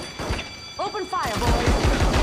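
Gunfire erupts in the PS2 game Reservoir Dogs, a quick run of close rifle shots following a brief shouted line in the game, with loud repeated bursts filling the second half.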